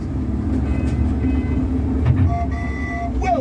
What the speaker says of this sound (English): That's his train.